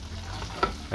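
A spoon stirs chili flakes and salt through melting butter in a hot pan, a short soft sizzle with a light scrape of stirring near the end.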